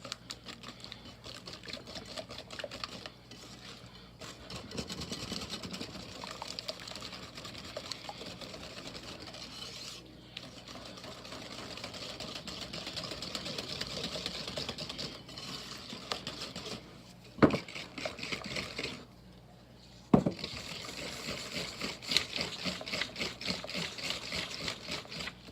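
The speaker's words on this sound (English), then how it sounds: "So I'm gonna mix this together first." No-cook pecan pie filling is mixed in a bowl, giving a steady, rapid scraping and stirring rhythm. Two sharp knocks against the bowl stand out near the end.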